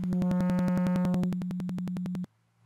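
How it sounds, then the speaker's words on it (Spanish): Sine wave tone distorted through a UX2 audio interface, a loud steady buzzy test tone with rapid rhythmic clipping pulses that drops in level partway, then cuts off to near silence. "Podemos escuchar claramente cómo llega a punto de distorsión."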